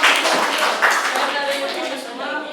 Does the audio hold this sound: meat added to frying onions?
no